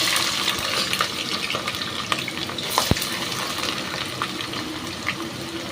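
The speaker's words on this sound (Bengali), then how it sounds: "তেল গরম হয়ে গেছে, আমি এবার পেঁয়াজ দিয়ে দিচ্ছি তেলে।" Onions dropped into hot oil for mutton pulao, a loud close sizzle and crackle with stirring scrapes and a sharp clatter midway, continuous throughout.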